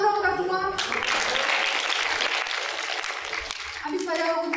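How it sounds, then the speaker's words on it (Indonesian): Audience clapping in a broad, dense wash of applause at a webinar session, steady for several seconds between voices at the start and end. "Boleh tepuk tangan dong kita semua"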